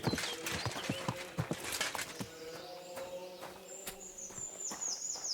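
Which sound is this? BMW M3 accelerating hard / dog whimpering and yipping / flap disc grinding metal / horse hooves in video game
horse hooves in video game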